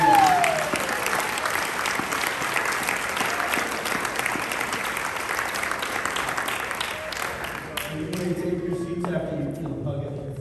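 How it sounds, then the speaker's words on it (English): Steady applause fills a Boca Chamber of Commerce event room, a dense wash of many hands that holds for about ten seconds and thins toward the end, with voices in the crowd underneath. "Give all of them another round of applause."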